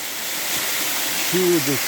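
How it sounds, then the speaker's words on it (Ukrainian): Steady rushing waterfall roar fills the scene as a broad, constant wash of sound, with a brief voice rising over it near the end. "Водоспад, диви, який водоспад."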